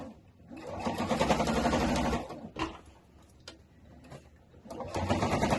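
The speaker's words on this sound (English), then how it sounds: "So now I'm going to sew from this side, because if I do it from the other side, it looks horrible." Sewing machine stitching a puzzle-style backpack, loud and close: a two-second run of rapid stitching, a few clicks and pauses with faint handling, then the motor whirs up again at the end.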